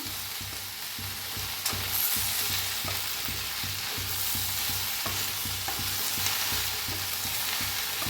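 Okra stir-fried in an iron pan sizzles steadily, with a soft scrape of stirring repeating about every half second, close and continuous with no voices.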